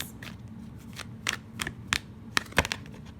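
Tarot cards are shuffled by hand up close, giving crisp, irregular riffling snaps and flicks that come in quick clusters over a quiet background, with no talking.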